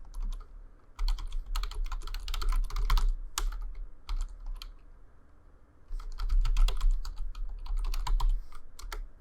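Fingers type a web link on a computer keyboard in two brisk bursts of rapid, close key clicks separated by a short quiet pause, with no one speaking.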